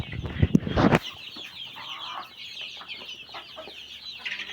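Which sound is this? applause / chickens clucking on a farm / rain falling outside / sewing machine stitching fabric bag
chickens clucking on a farm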